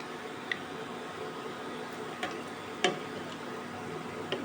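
Mung and masoor lentil fritters (bora) frying in hot oil, a soft continuous sizzle with occasional small pops and ticks, fairly quiet and without talk.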